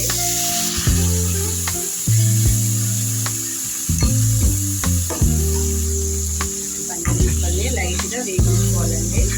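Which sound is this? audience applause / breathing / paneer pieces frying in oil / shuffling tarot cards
paneer pieces frying in oil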